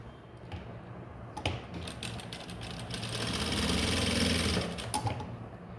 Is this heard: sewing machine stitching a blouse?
yes